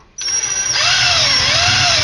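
A power drill with a paddle bit spins up abruptly and whines steadily at high speed, its pitch wavering slightly as the bit bores into wood for a handmade flute.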